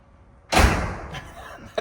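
A heavy, long car door weighing several hundred pounds slams shut on a car raised on a lift: one loud, close, booming thud that decays slowly, followed by a small sharp knock.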